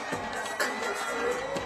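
Loud crowd at a FIBA 3x3 basketball game in Abu Dhabi cheering and shouting in a dense, continuous roar with brief swells, heard indoors with no pauses.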